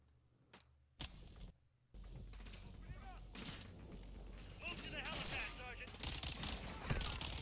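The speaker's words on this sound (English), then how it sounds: "I like this gun. It shoots, like, super fast." Rapid automatic gunfire rattles in bursts during a Call of Duty Modern Warfare 2 match, growing denser and louder after a quiet opening, with a player talking over the shooting.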